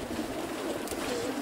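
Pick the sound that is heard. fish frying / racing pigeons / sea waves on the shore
racing pigeons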